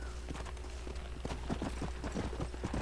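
Horse hooves clopping at a walk in Red Dead Redemption, with irregular soft thuds building through the clip over steady low game ambience.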